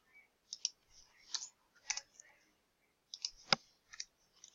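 A computer mouse clicks in quick pairs, a few light, close, crisp ticks spread over a few seconds in a quiet room.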